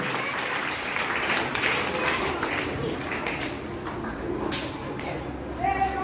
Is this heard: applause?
yes